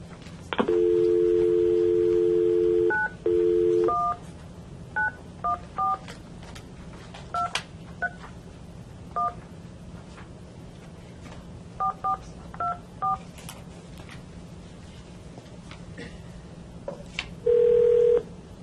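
Telephone keypad tones heard over a speakerphone at a DNA subcommittee meeting: a long dial tone, then a string of short dialing beeps in irregular clusters, ending with a ringback tone, clear and fairly close with no talking.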